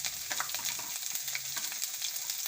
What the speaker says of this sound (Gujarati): થોડીક આપણે હિંગ નાખી દેવું